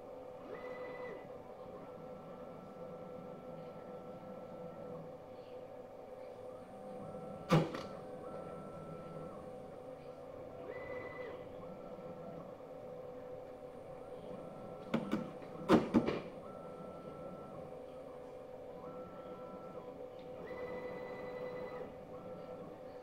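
A RapidChange automatic tool changer on a CNC machine performs a tool change over a steady mechanical hum, with a sharp clunk early on and a cluster of louder clicks and knocks later, all close by and without speech.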